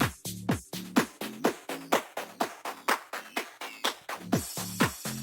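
A dance track on a DJ mixer with the crush and echo effect engaged, punchy repeating kicks with gritty, distorted hits and echoing tails, loud and rhythmic throughout.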